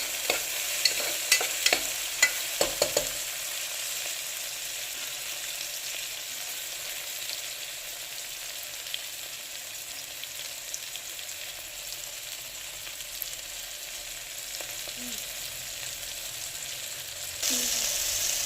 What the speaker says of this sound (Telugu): ఇక టమాటా ముక్క కట్ చేసి పెట్టుకున్నాను అది వేసుకున్నాను ఇది కొంచెం ఫ్రై అవ్వాలి